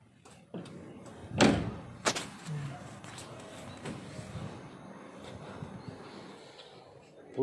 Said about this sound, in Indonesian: Buka kap mesin di sebelah sini ya.